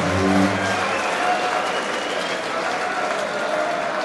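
A darts crowd at the German Darts Masters erupts in loud cheering and applause over a near-miss dart, a dense burst of clapping that swells at the start and then settles into a steady roar.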